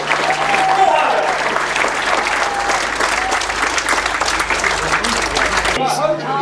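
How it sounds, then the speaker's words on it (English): Loud, sustained applause from a grasstrack racing crowd fills the scene, steady clapping throughout with a voice briefly audible underneath, ending abruptly. "Let's give him one more big round of applause for third place finisher, Lewis Denham"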